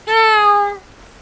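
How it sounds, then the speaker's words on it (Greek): A collectable cat in the video game Strange Brigade gives one clear, drawn-out meow, loud and close, then falls quiet, with no talking. "Νιάου, νιάου, βρε γατούλα"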